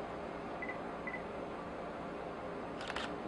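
A Nikon D3100 digital SLR camera fires its shutter at a slow exposure setting, giving a short mechanical click and clack that is quiet against a steady background hiss.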